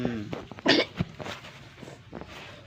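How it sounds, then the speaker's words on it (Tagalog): A baby with a cough and asthma gives a few short, sharp coughs, loud and close, with softer breathy sounds and faint voices around them. "may ubo ang baby ko."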